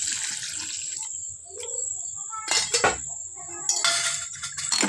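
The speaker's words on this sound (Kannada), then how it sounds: "ಇವಾಗ ಇದಕ್ಕೆ ನೀರು ಹಾಕ್ತೇನೆ." Water is poured into a pot of crab sukka cooking on the stove, giving a few short splashing, running bursts with faint clinks in between and a high steady whine in the background.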